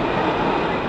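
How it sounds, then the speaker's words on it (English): Steady, loud, close rumble and rattle from inside a moving subway train, a continuous dense roar of wheels and carriage with no talking. "We on the train right now"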